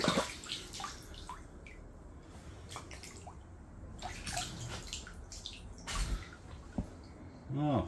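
A pH test vial for a hot tub rinsed under running water, splashing and trickling with drips and a gurgle near the end, close by, with no speech.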